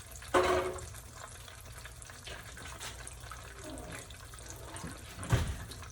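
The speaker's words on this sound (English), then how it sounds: "I always pour a little bit of the water back in just to rinse the grits off" Water is poured into a bowl to rinse grits, giving a steady splashing and running-water wash for several seconds. A sharper splash comes near the start and another near the end, with no talking.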